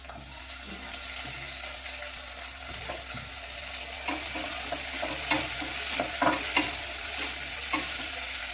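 Tomato and onion softening in oil in a pan, a low, steady sizzle with occasional scraping strokes of a spoon picking up toward the end, and no voices.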